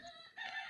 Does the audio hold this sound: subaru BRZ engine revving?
no